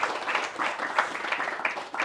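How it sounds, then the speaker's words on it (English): An audience claps for a guest after an in-conversation event, a brief, moderately loud burst of applause. "Give a round of applause for Marcus."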